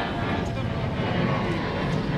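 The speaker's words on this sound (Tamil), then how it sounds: "ஃப்ளைட் போகுது" An airplane passes overhead during an outdoor press briefing, its steady broadband roar filling the whole moment at a loud, even level, with a crowd's voices murmuring underneath.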